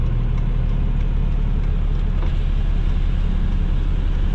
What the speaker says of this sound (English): That custom exhaust is pretty loud.